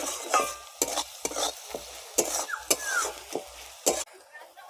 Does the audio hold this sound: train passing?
no